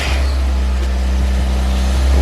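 Mazda MX5 engine running close by, a loud, steady low droning rumble with a faint rising pitch sweep, no talking over it.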